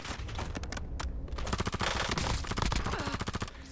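Rapid automatic gunfire in the video game Call of Duty Warzone, loud and continuous bursts of shots crackling back to back with brief gaps, close and dense throughout.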